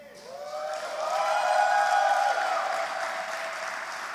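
Crowd at a Quake Pro League grand final in Lucca applauding the tournament winner, a swell of clapping and cheering that builds, peaks midway and stays strong, with a faint voice at the very start.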